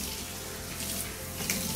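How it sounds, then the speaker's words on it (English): Shower spray running steadily while rinsing shampoo off a dog being bathed, a continuous close splashing rush of water with a slight surge near the end. "just pop the shower on again"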